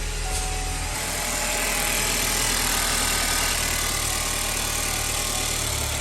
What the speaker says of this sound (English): That starter sounds like when the car just got bought.